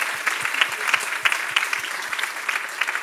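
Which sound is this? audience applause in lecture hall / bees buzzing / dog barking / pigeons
audience applause in lecture hall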